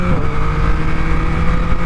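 A Yamaha MT-09 motorcycle with a quick shifter pulling through traffic, a loud close engine drone holding steady with a slight dip in pitch.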